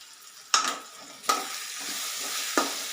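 Chili powder sautés in a hot pan with a soft continuous sizzle. Three sharp scraping strokes of a spoon or spatula stand out clearly, close up, with no voices.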